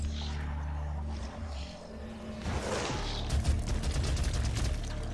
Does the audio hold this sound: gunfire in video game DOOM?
yes